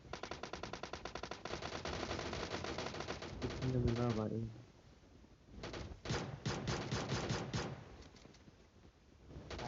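Rapid gunfire from a pistol in PUBG Mobile on the Erangal map, bursts of sharp repeated shots running through most of the stretch, loud and close, with players talking over it.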